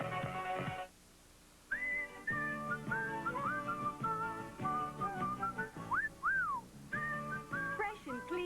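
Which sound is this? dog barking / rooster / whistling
whistling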